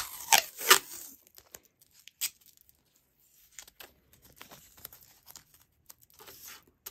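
Tape torn by hand to fix wax paper down for making paper beads gives a few sharp ripping bursts near the start, then quieter crinkles and small handling noises.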